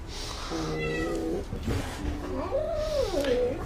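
A five-month-old cat meows and yowls in rising, wavering cries, loud and close, with a short break between two drawn-out calls.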